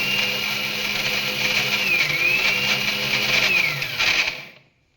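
A kitchen mixer grinder whirs steadily while coarsely crushing fennel and coriander seeds for a mango pickle, its motor pitch shifting slightly as the jar works, then cutting off near the end.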